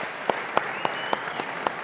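An audience applauding at a TCL C-Series product launch, a brief burst of steady clapping with a few sharper claps standing out, fairly close and unbroken by talk.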